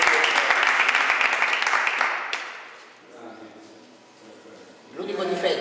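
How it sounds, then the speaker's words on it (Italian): Audience applause on an Italian local TV football show, a burst of clapping that fades out over a couple of seconds, followed by someone talking. "Un applauso"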